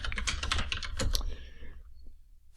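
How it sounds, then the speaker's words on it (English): Quick, clattering keystrokes on a computer keyboard rattle off for about a second and a half, then stop, leaving near silence with one or two faint taps. "I'm going to have to type it out because I can't write very well on my writing pad"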